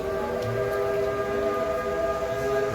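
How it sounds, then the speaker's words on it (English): A steady, sustained train whistle at Dollywood theme park blows with layered tones, loud and continuous over a low background rumble. "Hear the train whistle going off already."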